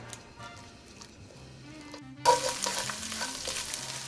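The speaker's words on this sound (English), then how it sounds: "chorizo gets really loud, so hang tight as I continue to cook it" Chorizo suddenly bursts into a loud, crackling sizzle in a hot frying pan partway through, continuing steadily after quieter background noise.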